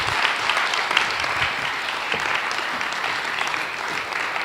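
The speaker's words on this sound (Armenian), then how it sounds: "Եկեք ծափարենք իրանց" Steady applause from a church congregation fills the whole stretch, dense and continuous clapping heard close and fairly loud, with no speech over it.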